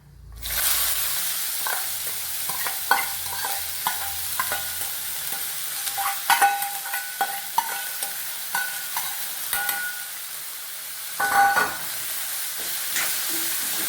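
Beetroot sautéed in a pan for thoran, with a steady close sizzle of frying and repeated scraping and clinking of a spatula as it is stirred, no voices.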